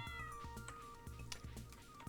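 A cat in the Stardew Valley Expanded farming game meows repeatedly and softly over steady, rhythmic background game music, with no talking.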